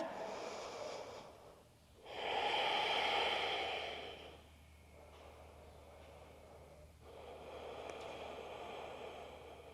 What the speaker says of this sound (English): Deep Ujjayi breath.